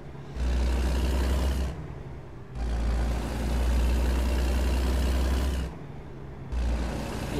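A Kenworth T600 truck idles in American Truck Simulator, a loud low engine rumble with broad hissing bursts that start and stop several times, like air releases, close and steady.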